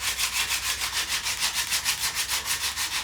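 Sandpaper rubbing down cracked paint on a model aircraft fuselage, with steady back-and-forth strokes in a quick even rhythm, close and fairly loud with no talking.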